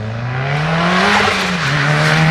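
Turbocharged 210 hp Lancer on stock internals at a track day, engine roaring loud and close as it drives hard, pitch climbing and dipping through a gear change.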